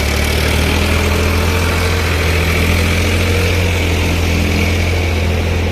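A tractor stuck in mud runs a steady, heavy, droning engine at close range, a loud continuous low rumble with no pauses.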